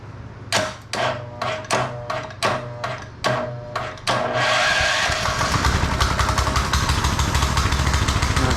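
TrailMaster Mini XRX go-kart engine is pulled over seven times with sharp rhythmic starter strokes, then catches and settles into a loud, steady, buzzing small-engine run up close.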